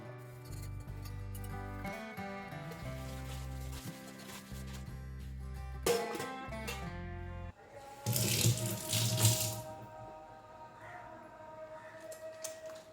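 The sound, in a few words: tap water running while rinsing dishes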